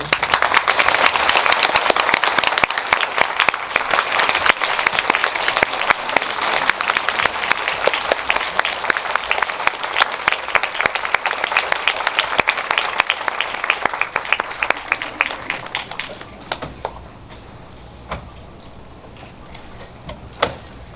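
An audience at a film talk at a Megabox Coex cinema hall in Seoul applauds to welcome the director and lead actors, sustained loud dense clapping that tapers off into a few scattered claps.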